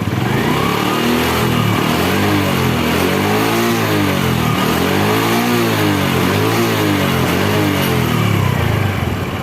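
Motorcycle engine revved up and down repeatedly during an oil breather hose check, loud and close with rising and falling engine pitch throughout, no voices.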